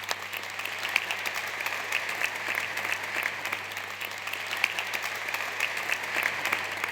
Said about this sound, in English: Please give everybody here a round of applause.